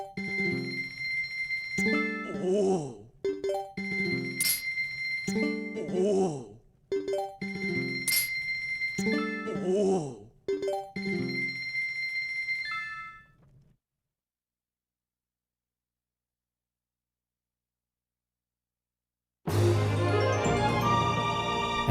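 Zelda: Twilight Princess video game jingle marking 100% completion, a bright chiming, bell-like melody of repeated ringing notes that cuts to silence, then a fuller burst of game music returns; loud and clear with no talking.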